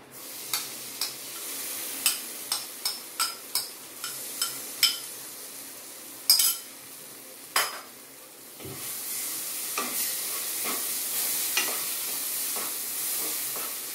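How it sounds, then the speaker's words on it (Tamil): Cooked moong dal being stirred in a pan for Asoka halwa, a series of sharp spoon scrapes and taps against the pan over a soft sizzle, close and fairly quiet, with a louder frying hiss later. "இப்ப வந்து இந்த வேக வச்ச பைத்தம்பருப்பை போட்டுடலாம்"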